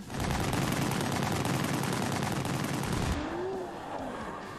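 Rapid gunfire from pistols in The Grand Tour Game, a dense, loud burst of repeated shots lasting about three seconds, then cutting off into quieter background game sound.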